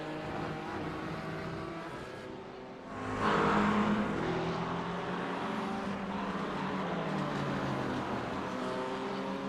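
A Mercedes race car at the Mugello circuit, its engine droning steadily, then swelling louder around a third of the way through and holding a sustained, fairly distant roar with no voices.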